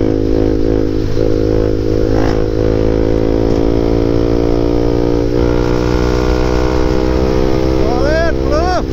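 KTM RC 390 motorcycles pull hard in a drag race, a loud, continuous engine drone with rising whine dominated by wind buffeting, recorded up close from the rider's position, with a brief shout near the end.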